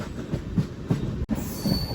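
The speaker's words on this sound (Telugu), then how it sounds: "అటు సైడ్ గూడ్స్ ట్రైన్ ఉంది." A goods train rumbles steadily past a station with rhythmic heavy thumps from its wheels, and a thin metallic squeal rises near the end.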